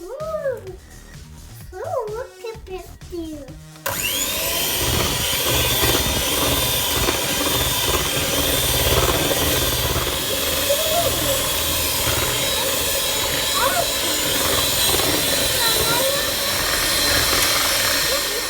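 An electric mixer beats six eggs into butter cake batter with a steady, loud whirring drone that runs without a break after a few seconds of someone talking.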